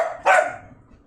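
A single sharp bark from a pet dog inside a home, loud and close, cutting off quickly into a short fading tail.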